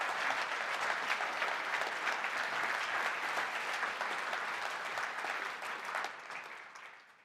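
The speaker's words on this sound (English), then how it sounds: "Can we have a round of applause for our analytical insights?" Steady, dense applause from an awards ceremony audience, loud and even for several seconds before tapering off toward the end, with no voices over it.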